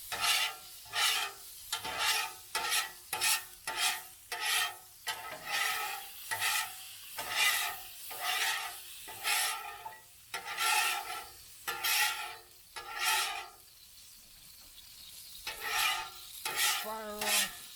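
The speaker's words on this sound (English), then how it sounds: "That's all it is to clean up a Blackstone Griddle." Blackstone griddle being cleaned, with repeated rhythmic rasping scrapes at a steady pace, close and moderately loud, then a short pause and a few final scrapes.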